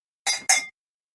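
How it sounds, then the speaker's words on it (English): Two quick bright clinks of drinking glasses touching in a toast, close and crisp, followed by silence. "When you hear the clink, drink."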